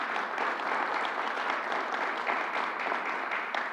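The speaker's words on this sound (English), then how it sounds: "Let's give her another round of applause." Audience applause at a government announcement event in Harlem, a steady dense wash of many hands clapping that holds evenly for several seconds with no voices on top.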